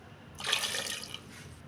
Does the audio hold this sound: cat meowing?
no